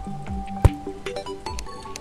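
In the video game Terraria, a slime gives a short, wet squelch. It pops out once sharply amid quieter game tones and softer squishy drips, close and moderately loud.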